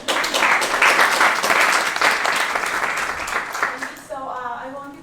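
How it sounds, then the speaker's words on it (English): Roomful of roughly 130 presentation attendees applauds loudly, the clapping dense and steady before tapering off, with a voice starting to speak as the applause fades at the end. "A big applause for everyone in the room"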